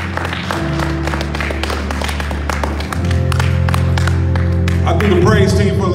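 Congregation clapping during a Sunday morning church service, a dense run of sharp handclaps over low sustained music, growing louder midway, with voices rising near the end.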